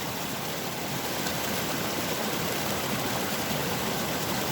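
Steady rushing of a wilderness stream, a continuous broadband wash close by with no pauses or voices.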